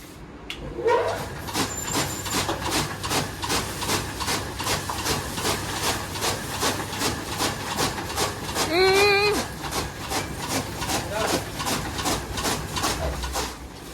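A chaff cutter chops fodder in a steady, rapid rhythm of clacking strokes, with a brief squeal partway through.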